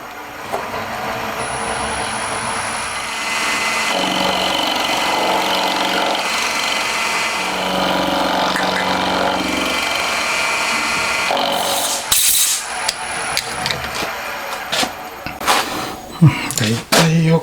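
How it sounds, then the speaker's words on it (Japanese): A power tool grinds a Honda Monkey engine part for a 124.4cc four-cylinder conversion into a half-moon shape, a sustained whining buzz for about twelve seconds, followed by scattered clanks and brief bursts as work stops. "あとはここを半月になるように削ってきます。"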